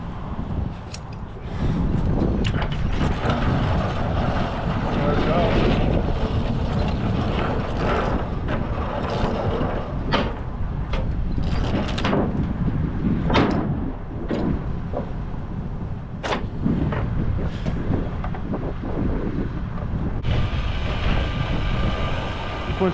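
A truck winch drags a heavy load up onto a hotshot trailer, giving a continuous loud grinding, rumbling strain with scattered clanks and knocks and some wind buffeting on the microphone.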